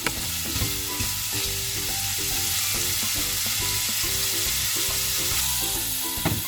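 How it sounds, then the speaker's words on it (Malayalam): Paneer cubes fry in a pan for palak paneer, giving a continuous sizzle broken by scraping stirs, with music playing in the background. "നമുക്കിനി അത് പനീറിഞ്ഞെടുക്കാം"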